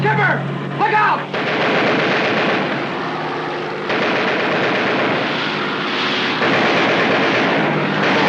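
Gunfire roars from an attacking warplane strafing a submarine deck in a 1950s war drama, a loud dense rattle with engine drone after a brief shouted warning at the start.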